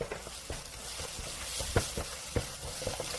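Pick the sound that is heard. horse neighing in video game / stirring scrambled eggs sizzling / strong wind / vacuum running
stirring scrambled eggs sizzling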